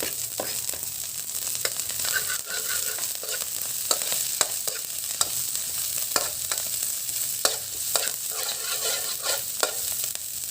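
Garlic and celery stir-fry in a pan with a steady, bright sizzle, while frequent sharp clicks of a utensil against the pan cut through it; close and continuous, with no voices.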